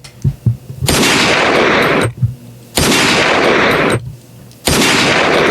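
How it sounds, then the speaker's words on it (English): Gunshot sound effects: long, loud bursts of rapid automatic fire, three sustained volleys separated by short pauses with brief thuds between them. "All gunshots."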